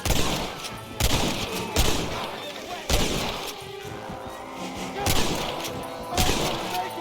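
Gunfire in the video game Red Dead Redemption on Xbox Series S rings out as about six loud, sharp shots spaced a second or so apart, with voices talking between and around the shots.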